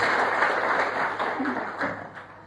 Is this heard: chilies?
no